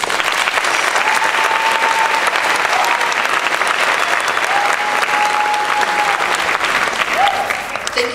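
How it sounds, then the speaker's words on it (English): Loud, sustained applause from a high school graduation crowd, steady throughout, with faint voices and occasional whistle-like tones mixed in. "please give them a round of applause"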